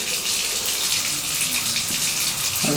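A Crosswater bath shower mixer running in shower mode, water spraying in a continuous loud hissing rush with no breaks.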